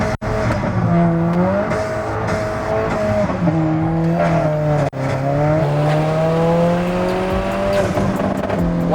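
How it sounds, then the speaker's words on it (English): Alfa Romeo 4C with a burble tune, its engine droning steadily at close range with shifting pitch, a sharp crack near the start and another brief pop midway through. "Wow, this burble tune is ridiculous. Show off the burbles."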